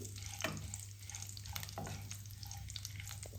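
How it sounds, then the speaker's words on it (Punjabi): Cumin seeds, a bay leaf and a piece of cinnamon lightly roasting in hot oil for a spiced potato dish give a soft, continuous sizzle with small crackles and a few stirring scrapes. No talking. "ਤੇਲ ਗਰਮ ਹੋ ਗਿਆ ਇਸ ਵਿੱਚ 1 ਚਮਚਾ ਜੀਰਾ 1 ਤੇਜ਼ ਪੱਤਾ 1 ਟੁਕੜਾ ਦਾਲਚੀਨੀ ਸਾਰੇ ਮਸਾਲਿਆਂ ਨੂੰ ਆਪਾਂ ਹਲਕਾ ਜਿਹਾ ਭੁੰਨ ਲਵਾਂਗੇ"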